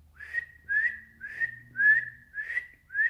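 A person whistles loudly in six bright, rising two-note calls spaced evenly about half a second apart, clear and close against a quiet background.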